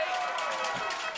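A baseball crowd at a Perth Heat versus Adelaide Giants game reacts to a foul ball with a brief, steady, dense roar that fills the whole moment.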